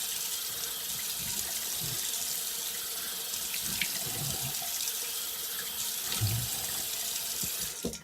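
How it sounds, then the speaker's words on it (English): A bathroom tap runs steadily for rinsing during a shave, a constant close hiss of water pouring into the sink with slight splashing variations and no talk. "Okay, we'll go ahead and rinse."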